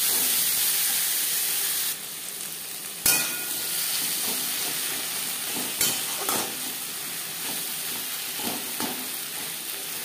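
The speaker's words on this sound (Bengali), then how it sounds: "মাছের তেল পেঁয়াজের ও মশলার সাথে কুক করে নেওয়ার পর দিয়ে দেবো বেগুন" Eggplant frying in fish oil with onion and spices hisses and sizzles steadily at close range, broken by a few sharp clatters of stirring and a softer, quieter frying stretch.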